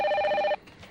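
A telephone rings indoors with a bright, steady electronic tone lasting about half a second, then cuts off into near silence.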